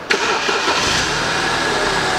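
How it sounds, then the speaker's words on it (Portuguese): A car engine cranks and catches right after a water pump replacement, then runs steadily with a loud mid-pitched drone and a slight rev, no talk over it. "Então, dá aquela partida."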